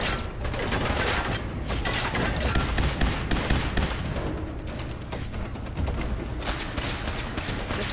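Gunfire in the video game Fallout 4: a dense, chaotic stretch of shots, thumps and mechanical clatter, fairly loud and continuous, with no clear talk.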